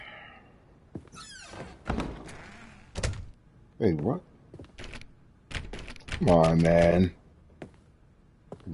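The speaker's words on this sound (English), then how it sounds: "Doors keep shutting and shit." Doors shutting in The Stanley Parable: Ultra Deluxe, a few sharp thunks scattered through the scene, mixed with a man's short exclamations.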